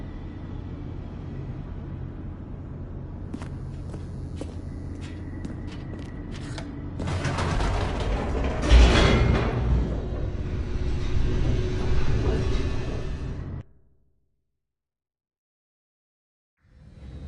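An elevator descending in The Stanley Parable, a steady low mechanical rumble with clanks and scraping rising to a louder roaring stretch, then cutting off abruptly into silence.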